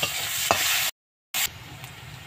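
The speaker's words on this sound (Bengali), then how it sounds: "পেঁয়াজটা আমি ভালো করে ভেজে নেব।" Onions fry in oil in a wok with a steady near sizzle, a few stirring clicks and scrapes, and a short gap of silence midway.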